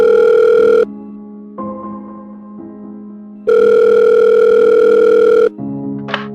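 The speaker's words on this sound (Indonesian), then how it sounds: "Aku coba telepon deh ke rumah Mas Mus." A telephone ringback tone sounds loud and close as a call is placed: two long, steady beeps separated by quieter, lower tones, ending in a brief click.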